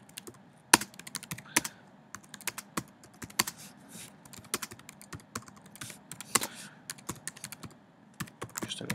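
Someone types on a computer keyboard while filling in a Google Drive form: a long run of close, sharp key clicks at an irregular pace, some louder taps standing out, in a quiet room with no talking.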